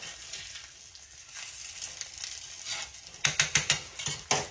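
Eggs frying over easy in a skillet that sticks a little, a steady soft sizzle followed by a cluster of sharp scraping clicks as a spatula works under them, close by with no talk.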